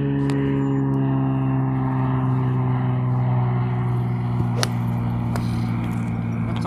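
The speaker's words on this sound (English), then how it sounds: "How often do you get an airplane and a range pick mule going by at the same time?" A propeller airplane drones overhead while a range picker mule rumbles past a golf driving range, forming a loud, steady mechanical hum with a few sharp clicks mixed in.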